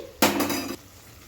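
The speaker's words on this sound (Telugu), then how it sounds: "మూత తీసి" A metal lid lifts off a cooking pot of simmering tamarind leaves with a sudden ringing clatter that hangs for about half a second, then fades to quiet kitchen background.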